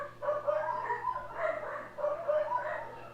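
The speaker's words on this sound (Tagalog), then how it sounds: "Ang ingay ng aso." A dog yips and barks in a string of short, nasal bursts at close range, fairly loud, alongside a steady low electrical hum.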